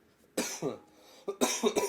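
A person with acute bronchitis coughs in a few harsh, close bursts: one cough, a short pause, then a quicker cluster of coughs.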